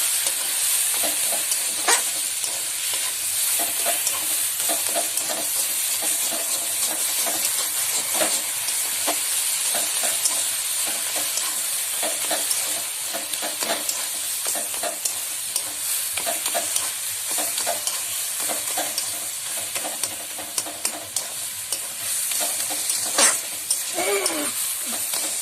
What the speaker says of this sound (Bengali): শাকটাকে ভালো করে কষিয়ে নেব, কষিয়ে মানে একদম শাকের জলটাকে নেড়ে দেবো।